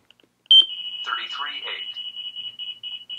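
A Valentine One radar detector sounds its alert ringtone for a 33.8 signal, a sharp, close high-pitched tone that starts abruptly and pulses repeatedly, while someone talks over it.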